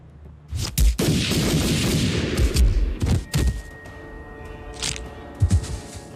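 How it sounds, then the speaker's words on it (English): Heavy gunfire in an action film, with dense bursts of shots and booming impacts filling most of the stretch and a few sharp isolated blasts near the end, loud and close. "What's all that gunplay?"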